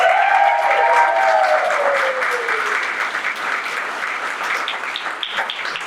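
Audience applause at a Collin College event in McKinney, Texas fills the room with dense, sustained clapping that starts loud and slowly tapers off, while a brief whistle-like tone sweeps down near the start.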